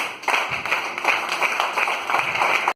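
Church congregation clapping in a brisk, steady rhythm, dense and close, with faint voices underneath.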